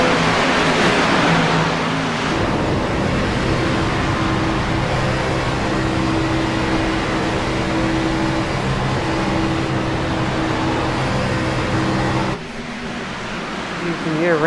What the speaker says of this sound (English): Such a big pack of cars.